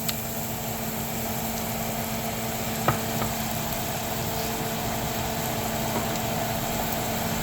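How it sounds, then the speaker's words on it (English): Flour being stirred into hamburger and onion gravy in a hot pan, giving a steady, even sizzle throughout with one faint scrape of the utensil partway through. "You want to stir that in until it gets nice and thick."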